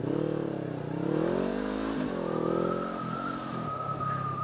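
A Honda CB500F motorcycle pulls away and accelerates, its engine note rising through the gears from close by, with steady wind rush and no talk.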